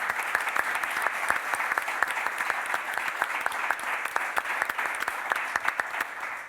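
An audience at a talk applauds, close and fairly loud, with individual claps crisp and rapid in a steady, continuous round.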